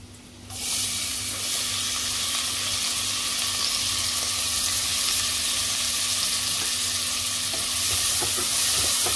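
Onion and red chillies drop into hot oil and erupt into a loud, steady sizzle, the bright frying hiss continuing close up with light scraping of stirring throughout.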